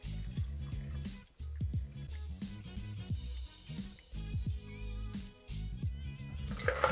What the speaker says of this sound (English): I'll use my Hawthorne strainer, and I'm going to strain this nicely